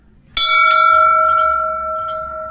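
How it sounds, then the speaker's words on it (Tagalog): A single loud strike on a metal wishing bell rings out clearly, its bright tone sustaining and slowly decaying, followed by a softer tap near the end. "Drop your coin. say your wish and ring the bell."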